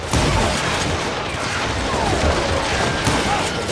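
Gunfire in the Western shooter video game Call of Juarez Gunslinger, a dense continuous barrage of loud overlapping shots and crashes filling the whole stretch without pause.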